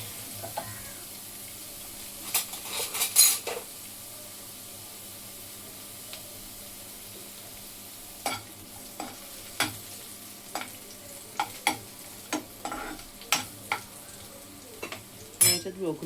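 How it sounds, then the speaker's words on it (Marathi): Chopped garlic and mushrooms fry in oil in a pan. A soft sizzle runs underneath, broken by sharp clicks and scrapes of a utensil stirring against the metal at irregular moments. "आणि आता एका पॅनमध्ये तेल टाकले, चॉप लसूण टाकते आणि मशरूम पण घेतले"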